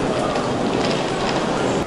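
Train running through a Japan Rail station on the bullet train line, a dense, loud rush of rolling wheels and rail noise, steady for the whole stretch.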